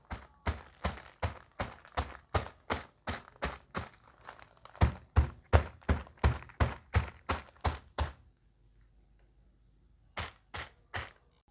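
Two packets of Maggi instant noodles crushed by pounding with a heavy object, a fast run of sharp crunching thumps, a pause, then a longer run of crunching blows, silence, and three final hits.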